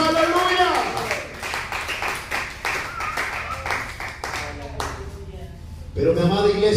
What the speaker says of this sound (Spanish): Aplauda el nombre de Jesús, aleluya.